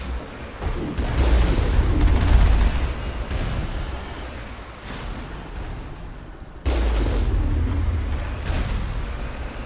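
Rapid rockets firing and exploding in Mass Effect combat, a sustained roar of launches and heavy booming impacts, dipping midway before another loud burst of explosions.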